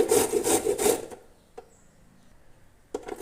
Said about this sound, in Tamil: இந்த நெல்லிக்காயை நம்ம துருவி எடுக்க போகிறோம்.